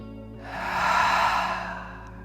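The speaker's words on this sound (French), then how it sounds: "On inspire par le nez, on expire par la bouche." A single slow breath, drawn in through the nose and let out through the mouth during a yoga stretch, rising to a soft airy peak and fading away, close and alone with no talk.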